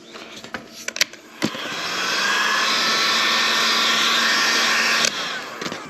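A hot air tool heats the adhesive on an iPad seventh generation screen, a steady loud blowing roar lasting about three seconds, with faint clicks and handling taps before and after it.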